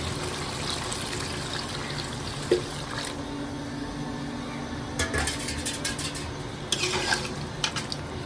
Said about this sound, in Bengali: আমি যে গরম পানি করে রেখেছি বাসনটা গরম পানিটা দিয়ে দিচ্ছি